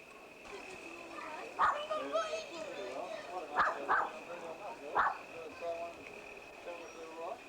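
A small puppy gives a few short, sharp yips and barks in quick clusters, under a steady chorus of evening crickets, with faint talk in the background.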